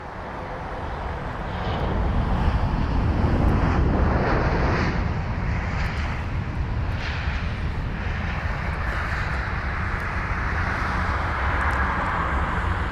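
British Airways Airbus A320 landing at London Heathrow, a steady, loud broadband roar of jet engines and rushing air that swells after the first seconds and holds without letup.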